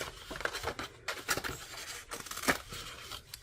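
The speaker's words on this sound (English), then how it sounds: "I am going to take scissors and first roughly" Scissors snip and trim paper for a bird-themed journal, a run of close, crisp cuts with crinkling paper between them, each cut a sharp separate burst.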